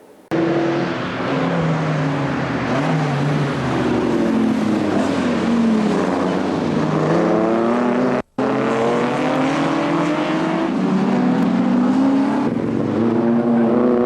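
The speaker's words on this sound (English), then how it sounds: "Cars coming out now for practice session number 2 for race 2" Triumph TR racing cars pull out for practice at Mallory Park in 1995, engines revving and accelerating in overlapping waves as several cars pass close by, loud and continuous.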